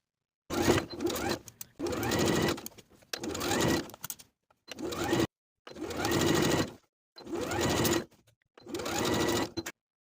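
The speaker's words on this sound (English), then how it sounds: "Sew the waistband to the top of the skirt with a 3/8 inch seam allowance" A sewing machine stitches a waistband seam onto a denim skirt in seven separate bursts, each a second or so of close, steady whirring separated by short silences.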